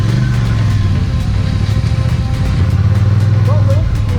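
Polaris ATV churning through mud, its engine droning steadily with a low rumble and rising revs as the tires spin, close and loud throughout.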